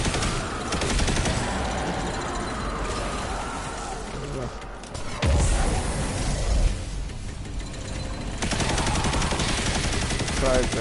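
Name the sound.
Heir Apparent machine gun firing in Destiny 2 video game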